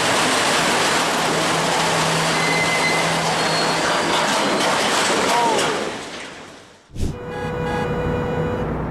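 A train rolling across a bridge gives a loud, steady broadband rumble and roar that fades out near the end, cuts briefly to silence, then resumes with fainter tonal rumbling.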